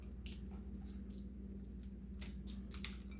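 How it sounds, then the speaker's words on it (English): Sharp scissors snipping through tough loquat leaves, a series of quick, quiet crisp cuts in an irregular rhythm over a low background hum. "by cutting them with a sharp scissor is probably the best way"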